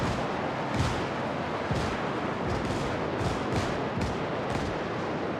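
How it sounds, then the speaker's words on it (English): Shotguns fire in the Star Citizen video game, a run of heavy, booming blasts at irregular intervals over a thick, constant rumble, with no voices. "Oh, the shotguns are overheating."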